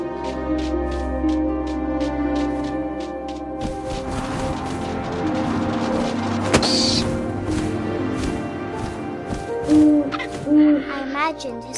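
Owl hooting in the video game What Remains of Edith Finch, a few soft hoots over a layered ambient music bed with wind-like texture, a sharp bright call near the middle and louder swells toward the end.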